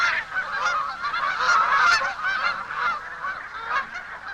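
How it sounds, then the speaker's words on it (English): Geese honking in Alaska's Brooks Range as spring migrants arrive, a flock calling in overlapping nasal honks that rise and fall continuously, fairly close and clear, with no voices. "the first geese arrive."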